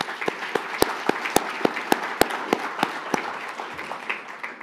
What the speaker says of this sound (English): Another round of applause, please, for Ainsley Simpson.